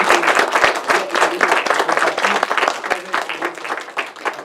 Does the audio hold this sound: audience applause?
yes